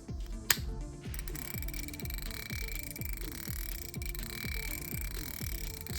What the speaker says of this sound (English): now let's check the drag clicker